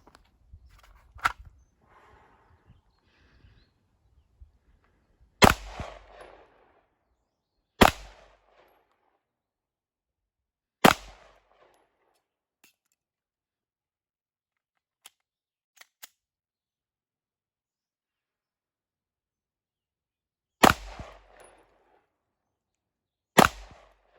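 Six sharp, loud 9mm pistol shots from a Smith & Wesson M&P9 2.0 at an outdoor range, spaced unevenly a few seconds apart with quiet gaps and faint clicks between them.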